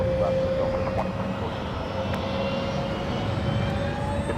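A jet aircraft engine spooling up at an airport: a loud, continuous roar with a steady whining tone, heard close throughout with no pauses.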